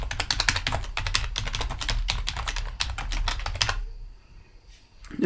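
Quick, steady typing on a computer keyboard, close and clear, a rapid run of key clicks that stops abruptly near the end, leaving quiet room tone, with no speech.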